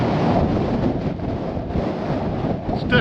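Strong wind on Belstone Tor, a hilltop in Dartmoor, buffets the microphone in a continuous, loud rumbling roar that swells and eases slightly, with no voices.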